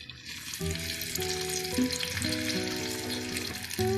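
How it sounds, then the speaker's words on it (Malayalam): Shallots frying in coconut oil in a hot pan give a steady, fairly loud sizzle, with a prominent tonal melody, likely music, playing over it throughout. "ചട്ടി ചൂടായി ഉള്ളി ഇട്ട് കൊടുത്തിട്ടുണ്ട് ഇതിലേക്ക് ഒരു ടേബിൾ സ്പൂൺ വെളിച്ചെണ്ണ ഒഴിച്ചു കൊടുക്കാം"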